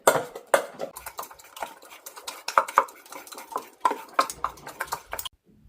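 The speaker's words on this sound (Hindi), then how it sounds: "ये थोड़े से जो राजमा मैं निकाल देती हूँ बॉईल करने के बाद में, तो उसको बिल्कुल ऐसे मैश कर लीजिए" Boiled kidney beans (rajma) being mashed with a utensil in a pot, giving a run of close, irregular soft thuds and scrapes with short clinks, no talking.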